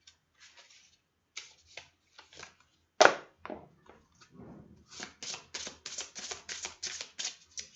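Tarot cards shuffled by hand for a draw, with quick riffles and soft slaps close by, a sharp smack midway, then a steady run of rhythmic shuffling bursts.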